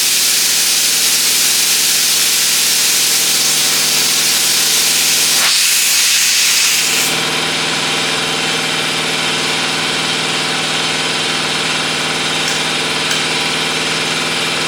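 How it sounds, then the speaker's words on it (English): Compressed air hisses loudly and steadily from the air tool of a manual tire changer. The rush briefly changes and dips partway through, then settles into a slightly quieter continuous blow, heard up close with no voices. "You're gonna hear air blowing out of it."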